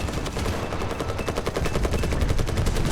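Tank gun fire and game combat in War Thunder, a dense, continuous barrage of rapid gunfire and rumbling explosions that stays loud and busy throughout with no clear pauses.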